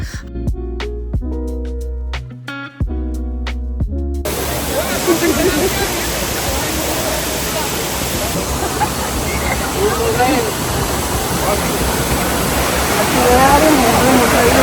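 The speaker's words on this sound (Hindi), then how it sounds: "यहाँ प्यारा झरना सा जो बह रहा है" Small waterfall near Jim Corbett, Uttarakhand, rushing in a steady, loud broadband wash for most of the clip, preceded by a few seconds of tonal music.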